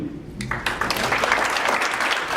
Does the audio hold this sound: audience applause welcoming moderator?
yes